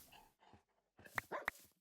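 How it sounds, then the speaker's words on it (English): Dogs in Minecraft bark in a short burst, a couple of sharp yips and barks close by after a brief quiet gap, with no talk over them. "oh, look here, we have some dogs"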